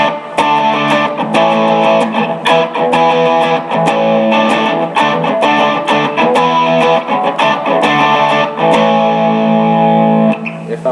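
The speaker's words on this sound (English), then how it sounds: "I like stacking the Sonic Stomp with a Tube Screamer," Electric guitar run through a Sonic Stomp stacked with a Tube Screamer as a second-stage overdrive, playing loud, dense distorted chords and riffs with steady rhythmic strums and sustained ringing notes throughout.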